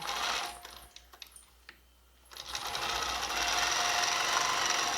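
A longarm quilting machine stitches down a quilt-as-you-go seam, starting with rapid mechanical clatter, pausing briefly into near quiet, then running again in a steady, loud, continuous whir; no speech.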